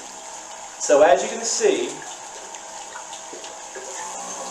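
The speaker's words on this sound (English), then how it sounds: "starting the pump, notice that the water comes into the tank from the pan" A pump pushes filtered water from a pan up into the tank of a catfish mop. It makes a steady rushing, splashing flow that swells briefly near the start, with a person talking over it.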